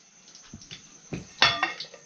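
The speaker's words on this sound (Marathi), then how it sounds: "कढई उलट ठेवते का" A metal kadhai (wok) is handled and set down upside down in a home kitchen, giving a few scattered clanks and knocks with one louder metallic clatter near the middle.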